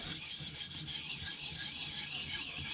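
A blade being sharpened on a ViperSharp sharpener to remove marker from the back side, giving a steady, continuous raspy grinding that runs close and even throughout, with no talk.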